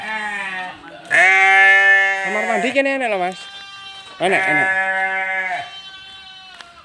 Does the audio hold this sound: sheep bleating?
yes